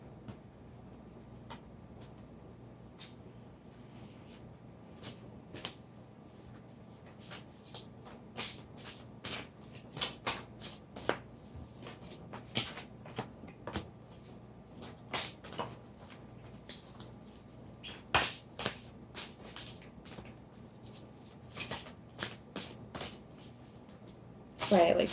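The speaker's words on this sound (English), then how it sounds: "That's why I like to do the pre-shuffles." A deck of playing cards is shuffled by hand on a table, giving a run of quick riffling bursts and scattered card snaps against a soft steady background hum, close and moderately loud.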